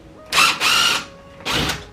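A DeWalt drill drives screws into a dimmer switch in three short, loud whirring bursts, two close together and one after a pause, with the motor pitch rising as each bursts starts.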